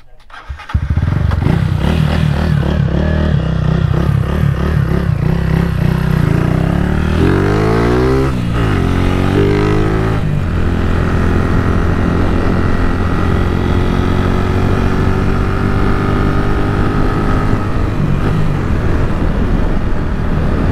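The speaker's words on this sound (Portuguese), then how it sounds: "acabei de ligar a moto" Fan 160 motorcycle fitted with a 190 kit and an Athlon ECU, starting up and then running and revving on a test, loud and close, the engine note rising and falling over a continuous drone.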